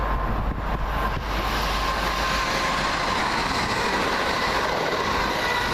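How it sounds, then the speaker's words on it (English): A Southern Railway train from Milton Keynes Central bound for South Croydon rumbles steadily through Cheddington station, a loud continuous roar of wheels and rail noise with faint clickety-clack, close by and without speech. "this is a Southern Railway service off Milton Keynes Central, going to South Croydon"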